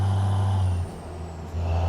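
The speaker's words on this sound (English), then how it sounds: "Love the gurgle of Jake brakes in the evening, in the morning." A heavy truck's engine brake (Jake brake) gives a low, throaty, gurgling rumble with a steady drone that dips briefly mid-clip, then resumes strongly; no voices.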